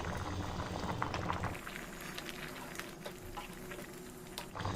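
Tripe curry simmers in water with tomato and ginger-garlic paste in a Telangana-style home kitchen, giving a steady, soft bubbling boil that runs quietly throughout, with no voices.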